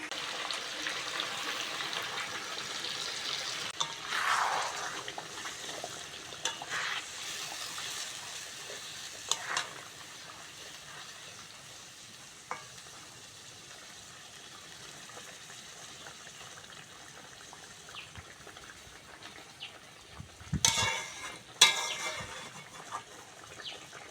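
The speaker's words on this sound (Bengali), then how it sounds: "চিকেনটা ভালো করে ভেজে নিয়েছি এবার গ্রেভিটা দিয়ে দেবো" Fried chicken chaap stirred in a pan as gravy is added, giving a low steady sizzle and wet bubbling with scattered scrapes, and a louder clatter of stirring near the end.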